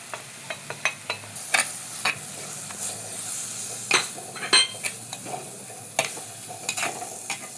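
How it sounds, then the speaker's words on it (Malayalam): A spoon stirs Kashmiri chilli, turmeric and coriander powder in a hot pan, giving repeated sharp clinks and scrapes against the metal over a soft, steady sizzle. It is close and clear, with no talking. "പിന്നെ കുറച്ച് മഞ്ഞൾപ്പൊടിയും കുറച്ച് മല്ലിപ്പൊടിയും നമുക്കിതിലേക്ക് ഇട്ടുകൊണ്ട് ഇളക്കി കൊടുക്കാം."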